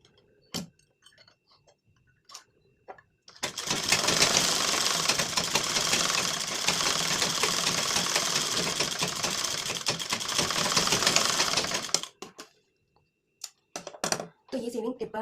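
A sewing machine stitches lace onto a blouse in a steady, fast-ticking run of about eight seconds, bracketed by a few light clicks and handling taps before and after.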